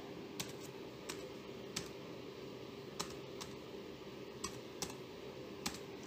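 Keys clack on a laptop keyboard while a command is typed into the Windows Run box: a sparse series of crisp, separate clicks at an uneven pace over a steady room hiss, with no voices.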